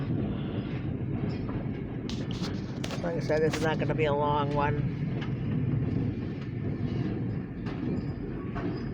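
A very short tanker train rolls past a rural station at Rynd Farm, Pennsylvania, with a steady loud rumble of wheels on rail and a brief squeal of flanges partway through, while someone talks over it.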